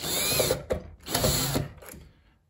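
A screw being backed out of an interior lockable door handle with a drill, giving two bursts of whirring mechanical ratcheting, close and fairly loud, with a brief pause between and a fading tail.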